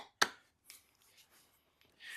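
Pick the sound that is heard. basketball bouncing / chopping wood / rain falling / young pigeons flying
chopping wood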